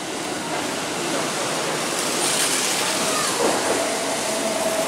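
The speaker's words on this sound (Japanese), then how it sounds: "電車が参ります。" A Kintetsu 5800 series train rolls into a station with a steady broadband rumble and wash of noise, a faint high squeal of wheels appearing near the end.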